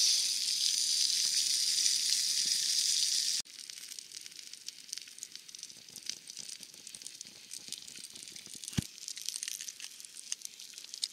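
Rabbit roasting over an open bushcraft campfire, with a steady bright sizzle and fine crackle at first, then quieter scattered pops and crackles from the fire after a sudden drop in level, close and without talk.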